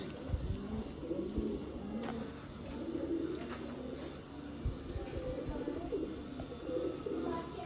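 Rooftop pigeons, including a Batera-type pigeon, cooing in repeated soft throaty phrases close by, with faint background ambience and no talking.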